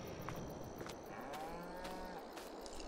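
Pasture cows in Farming Simulator 22 lowing in a few drawn-out moos over a steady background hum, moderately close, with no talking.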